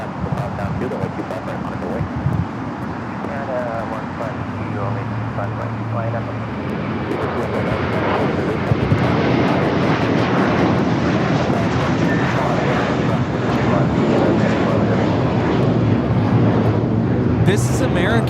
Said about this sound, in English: This is American Airlines 1657 taking off to Dallas Fort Worth on the A321.